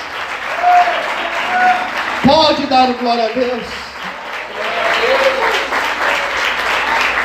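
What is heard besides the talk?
audience applauding in church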